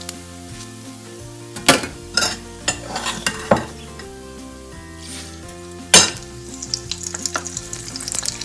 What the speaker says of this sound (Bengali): আর এটা তেল দিয়ে ভাজতেছি অবশ্য